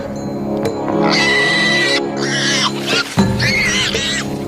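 Dragon mimicking the distressed cry of injured prey to lure a tiger, a series of shrill, wavering, bird-like calls that shift in pitch, loud and close against a low background rumble.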